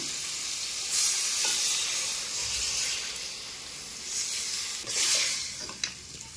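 Water is poured into a village-style curry of chicken feet, and the hot pan answers with a loud, steady hissing sizzle. Two brief swells of louder hiss break through, with faint stirring clinks and no talk.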